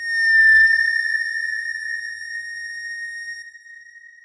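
A sustained, eerie electronic tone sonified from the chemical 2-hydroxybenzaldehyde, with steady pure overtones, swells briefly with a low rumble, then fades slowly, hanging alone in silence.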